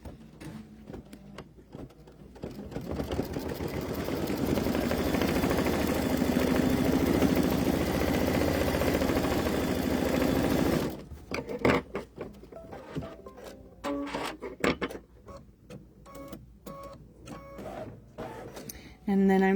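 Embroidery machine tacking an applique piece down with a satin stitch, a dense steady mechanical whirring hum that holds for about eight seconds, then stops and gives way to clicks and handling noise while a person talks throughout.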